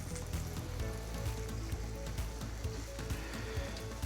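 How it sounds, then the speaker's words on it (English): Browned pork cubes go back into a pot with tomato paste for braised pork shoulder, setting off a soft crackling sizzle with scattered spits and pops, fairly quiet and steady. "back in goes our pork cubes, our browned pork cubes."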